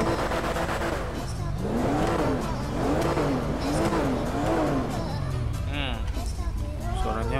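A Porsche's engine in a GTA V mod revs in rising and falling waves with loud, close, continuous engine noise and a tire squeal near the end.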